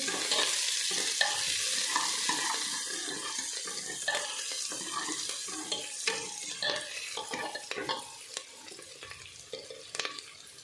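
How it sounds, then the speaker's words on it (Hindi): Onions and green chillies frying in a pan, with a steady crackling sizzle and occasional stirring scrapes throughout, close and moderately loud with no voices. "हरी मिर्ची पावे क्योंकि हरी मिर्च बिल्कुल ही तड़कन होगी"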